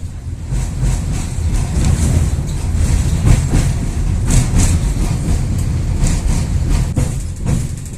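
A local tram rolls past in deep winter snow, a loud, steady rumble with rhythmic wheel clatter and faint squeals over several seconds, close by and without speech.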